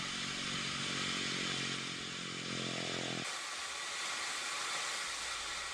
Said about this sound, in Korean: 땅속에서 올라오는 수증기가 마치 끓고 있는 주전자처럼 소리내면서 뿜어져 나오고 있다